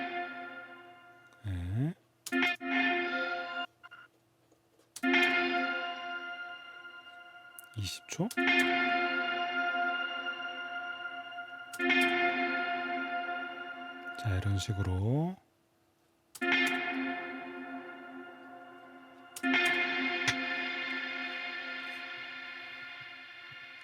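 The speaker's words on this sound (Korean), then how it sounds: "리버브인데 뭔가 신디사이저 같은 소리가 들려요." Electric guitar run through a Behringer Wing mixer's special FX reverb set fully wet, giving long synth-like sustained chord washes with swelling tails, interrupted by brief gaps where someone speaks over the effect.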